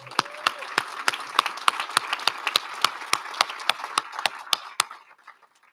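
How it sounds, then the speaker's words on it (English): Scattered, spaced-out claps ring out in a small room, a sparse round of applause that thins and stops after a few seconds. "Can we give an applause to everyone that is on the panel again?"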